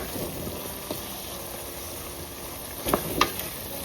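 Vegetables for an idli and dosa side dish sauté in oil, with a gentle, even sizzle and a few brief clinks of a spoon against the pan toward the end, with no speech.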